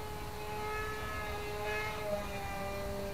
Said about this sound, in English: That motor sounds a bit odd.